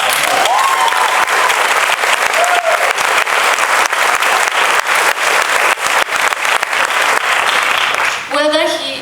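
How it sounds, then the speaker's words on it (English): Sustained, loud applause from a baccalaureate ceremony crowd carries on for most of the stretch, with some brief vocal sounds and cheers among the clapping before a voice begins near the end. "Let's give the Team He applause."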